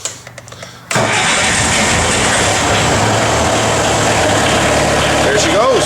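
A Bobcat 743 skid steer diesel engine cranks briefly, then catches and roars into a steady loud run after its glow plugs have heated, sounding rough and close with no pause.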